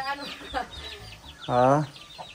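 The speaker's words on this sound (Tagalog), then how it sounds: "Ang dami yung manok" Chickens clucking close by, a few short clucks followed by one louder, drawn-out squawk, with faint voices in the background.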